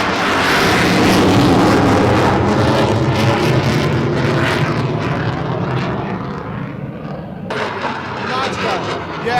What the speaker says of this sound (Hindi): ये देखिए, ये है प्लेन। इसकी आवाज ऐसे लग रही है कि छाती पर अटैक कर दिया हो